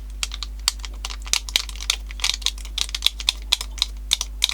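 Keys on an old Toshiba BC-0802 calculator keypad with sticky, un-greased switches pressed in quick irregular succession, a close, crisp run of clicks and taps over a steady low hum, no voices.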